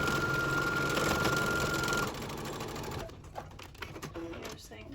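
A sewing machine runs steadily for about two seconds, stitching bias binding onto a homemade fabric face mask with filter, then stops, leaving soft handling noises and faint clicks.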